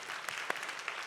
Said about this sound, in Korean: 열어내준 두 친구에게 격려의 박수를 부탁드립니다.